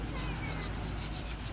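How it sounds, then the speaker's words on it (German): Sandpaper rubbed by hand across a rear brake disc on a BMW E36 coupe, a close, continuous rough scraping with steady loudness and no voices. "Deswegen nehme ich immer Schleifpapier"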